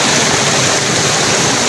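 Water rushing from the 108 spouts at Muktinath temple in Mustang, a loud, steady, close wash of splashing flow that fills the whole moment without pause.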